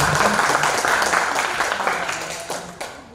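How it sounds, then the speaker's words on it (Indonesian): Audience applause breaks out at the opening of a school student council (OSIS) accountability session, a steady patter of many hands clapping in a room that slowly thins out toward the end. "tepuk tangan dulu"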